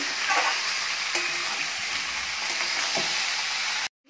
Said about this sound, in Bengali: মাংসটা দিয়ে মাংসটা একটু ভেজে নেব